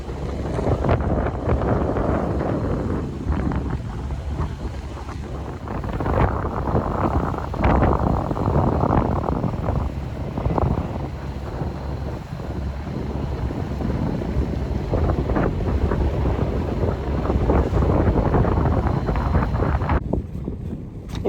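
Wind gusts buffet a boat at an anchorage, a loud, continuous low roar and rumble of wind on the microphone that swells and eases over the whole stretch, with no talking.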